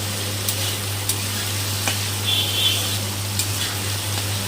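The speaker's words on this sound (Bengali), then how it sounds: "আজকে পনির দিয়ে আলু দিয়ে একটু ভাতটা ভেজে দেবো" Rice is frying in a pan with paneer and potato for a lunch box: an even, steady sizzle with a few faint clicks of stirring, backed by a constant low hum, with no talking.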